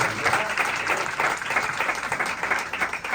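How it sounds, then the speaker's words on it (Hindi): Loud, continuous applause from a large crowd at a mega celebration event in Mumbai, dense clapping with a lively pulsing texture throughout. "उनके लिए एक जोरदार ताली।"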